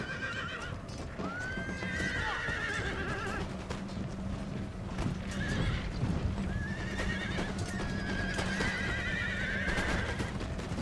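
Cavalry horses charge in a battle in the video game Empire Total War, with repeated whinnies and neighs over a steady rumble of galloping hooves, loud and continuous throughout with no talking.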